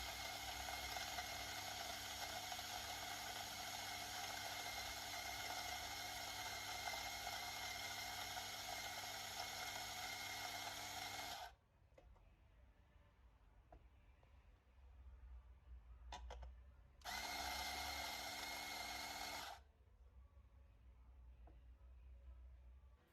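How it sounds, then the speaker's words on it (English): An electric coffee grinder grinds 17 grams of Arabica beans with a loud, steady whirring roar for about eleven seconds, stops, then gives a second short burst before falling quiet. "We grind 17 grams of Arabica coffee beans."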